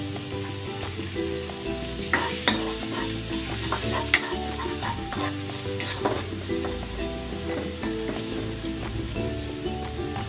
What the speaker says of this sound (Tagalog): Igigisa ko na tong bawang.